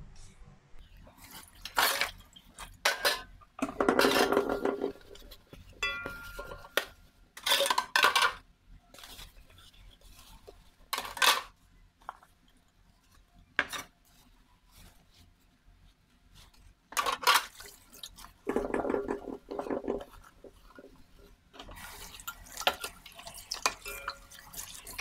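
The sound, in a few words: washing dishes, pots and utensils in a kitchen sink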